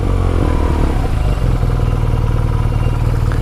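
A Triumph motorcycle rides along a road on the way from Cinque Terre to Pisa, its engine droning loud and close with a steady rhythmic throb and some rattling clatter throughout.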